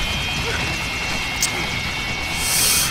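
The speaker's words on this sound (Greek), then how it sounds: "Δεν είναι Hind, αλλά οτιδήποτε είδους ελικόπτερο." A helicopter drones steadily in the Metal Gear Rising Revengeance video game, its rotor noise loud and continuous, while a voice seems to talk over it.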